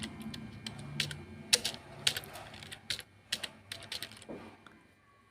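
Keys clatter on a computer keyboard as Python code for a print statement is typed, an irregular run of close, crisp clicks with brief pauses between bursts.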